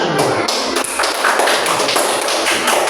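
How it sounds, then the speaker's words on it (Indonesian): Children clapping their hands together in a classroom, a dense, steady patter of many small claps that carries on for a few seconds at close range. "tepuk tangan"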